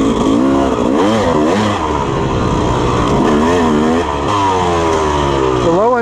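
A Yamaha YZ250 two-stroke dirt bike revs up and down repeatedly while being ridden, its rising and falling engine note fairly close and continuous, with wind and a voice mixed in.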